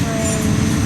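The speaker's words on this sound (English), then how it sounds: "that's the end of the train" The last cars of a freight train roll past close by, a loud continuous rumble and rattle filling the whole short moment with no pause.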